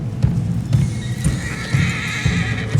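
A horse in Red Dead Redemption 2 riding off, its hooves beating a steady rhythmic clip-clop close by along with a neighing whinny, loud and with no talk over it.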